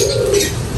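A racing pigeon gives a short, close, soft throaty coo, one brief low call heard alone.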